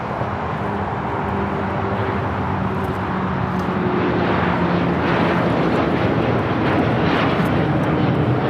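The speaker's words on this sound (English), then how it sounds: "the LL Dreamliner now taking off here on the south side" A Boeing 787 Dreamliner takes off from the south side at LAX, its engines making a loud, steady jet roar that holds throughout with broadband rumble and no break.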